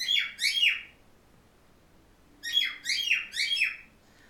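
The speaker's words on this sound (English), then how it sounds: "I'm just going to go cover the bird because he's super loud right now." Pet bird chirping loudly and nearby in two bursts of rapid, repeated shrill tweets, the second burst longer, with a quiet pause between them and no talking.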